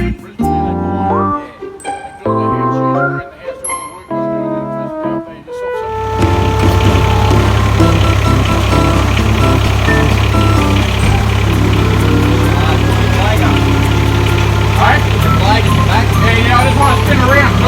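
A 1.2-ton HAIHONG mini excavator engine idling during delivery off a truck, a loud steady low rumble that starts abruptly partway through after a stretch of music and carries on continuously.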